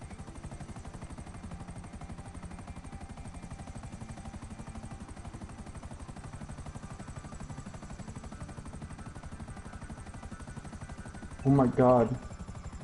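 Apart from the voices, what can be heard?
helicopter in a video game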